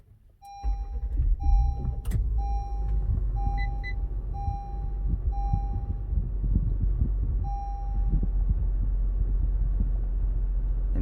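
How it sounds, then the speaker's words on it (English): A car engine starts up with a brief crank and settles into a low steady idle, while a repeating dashboard chime beeps in an even rhythm above it, close and fairly loud. "Let me go ahead and start up the vehicle."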